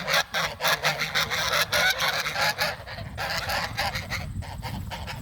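Loud, repeated honking of geese close by, harsh overlapping calls in an irregular stream that eases slightly toward the end.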